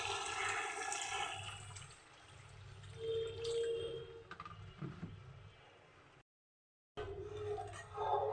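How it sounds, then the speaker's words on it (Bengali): Water is poured from a vessel into a pan of mustard hilsa curry, making a gushing, splashing pour that rises and falls before cutting off abruptly, then resumes briefly. "এখন আমি পরিমাণ মতো জল দেব।"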